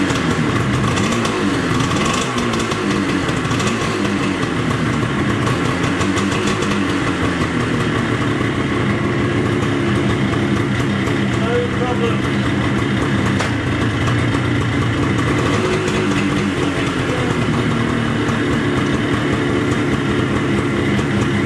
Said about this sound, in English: The little bike is back together and running lovely.